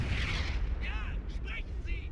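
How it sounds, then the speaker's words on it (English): An aircraft strafing run in the World War II strategy game Company of Heroes, a continuous rumbling barrage of explosions and gunfire mixed with battle noise, while a voice talks over it. "Strafing run just went in."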